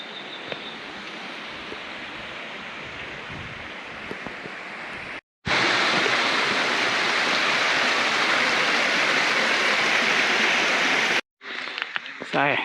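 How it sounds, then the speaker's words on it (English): Water rushing over small rapids in a rocky gorge, a steady broadband roar heard up close, louder in the middle section, with short breaks between segments and a little talk at the very end. "Water is running and a little rapids behind us"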